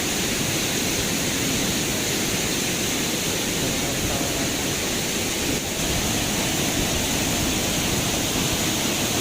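A strong waterfall roars in a dense, unbroken rush of water heard up close, loud and steady throughout without any talk.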